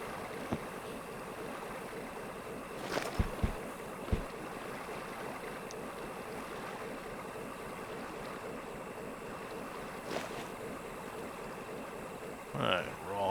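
In the video game Hidden & Dangerous, a river rushes steadily in the background, with a few soft thuds and clicks scattered across the scene.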